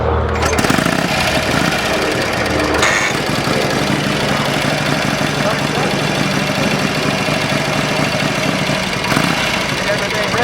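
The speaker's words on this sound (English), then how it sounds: "You got the Kickstarter right here. Turn the key on. Give her a notch and choke." A motorcycle engine kick-started with choke on, then running in a loud, steady rough idle close by, with a voice talking faintly over it.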